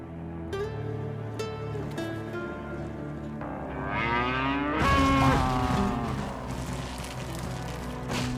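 Cattle moo in a Japanese anime, with long, drawn-out lowing calls that swell in the middle and carry over a steady background bed, with no talking.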